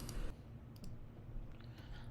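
Calculator buttons pressed, a few faint, quick plastic clicks spaced apart against a quiet low background.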